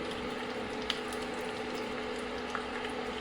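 Cumin and mustard seeds roast in a pan, a quiet, steady sizzle and crackle with faint occasional pops, close and continuous with no talking.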